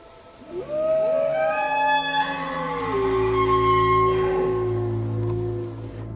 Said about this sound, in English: an unnatural combination of a wolf howl and an elk bugle